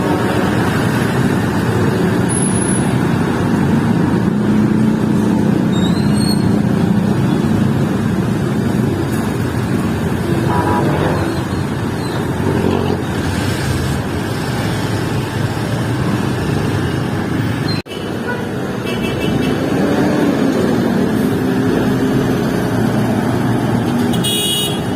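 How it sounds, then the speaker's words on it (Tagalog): Heavy road traffic in Almar, with a steady roar of car and motorcycle engines passing close by for the whole stretch and occasional horns rising above the drone. "Grabe naman traffic ngayong araw dito sa Almar."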